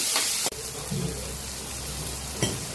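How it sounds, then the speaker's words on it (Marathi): Tomatoes softening in hot oil in a pan give a steady close sizzle and frying hiss, with a sharp stir or clatter near the start and another brief scrape toward the end. "टोमॅटो चांगला नरम होईपर्यंत त्याला परतून घ्यायचा"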